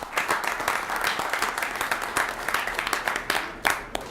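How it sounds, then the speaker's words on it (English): Audience applause at a village board meeting honoring holiday winter festival winners, a steady spatter of many hands clapping for about four seconds, moderately loud and evenly sustained. "Let's give a round of applause anyways."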